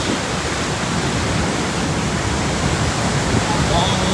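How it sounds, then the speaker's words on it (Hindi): Mallali Falls roaring, a dense, loud, continuous rush of falling water filling the whole clip without a break. "इसका वाटरफॉल का पावर देखो"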